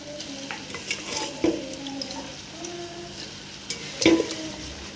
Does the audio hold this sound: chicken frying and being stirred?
yes